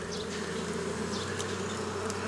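Steady, dense droning hum of honey bees buzzing around their hive colony, continuous and close, with occasional brief higher whines of individual bees passing near.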